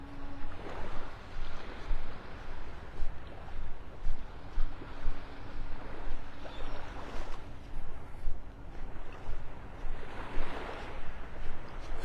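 Small waves lapping on the beach shore at Delnor-Wiggins in North Naples, Florida: gentle, rhythmic washes that swell and recede every couple of seconds, close by, with light wind noise and no talking.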